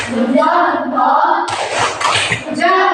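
Students in a classroom clap together in a thumb-clap cheer, a short burst of mixed handclaps following voices, with talking around it.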